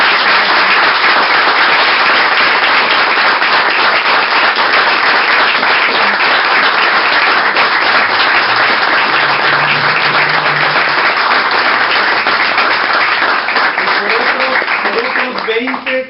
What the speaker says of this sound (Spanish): les pido un aplauso muy grande para ellos